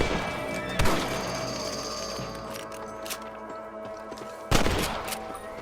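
Gunshots while hunting rabbits in the Red Dead Redemption video game: two loud, sharp rifle reports a few seconds apart, with fainter mechanical clicks between them over a constant outdoor game ambience.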